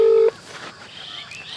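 A single steady dial tone beep lasting a moment, followed by faint room noise and soft high chirps.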